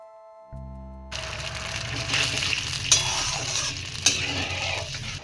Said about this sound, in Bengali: যে সসটা আমি করে রেখেছিলাম সেইটা আমি এখন দিয়ে দিচ্ছি।